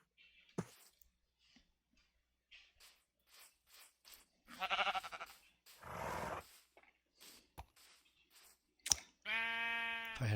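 Sheep bleating in Minecraft, several short wavering bleats scattered among soft game clicks and footsteps, with a longer, louder bleat at the very end.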